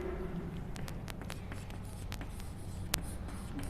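Chalk or marker writing on a classroom board during a Grade 10 CBSE science lesson, a steady run of short scratchy strokes with one sharp tap near the end, fairly quiet over a low room hum.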